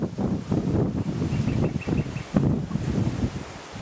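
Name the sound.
wind at a hilltop lookout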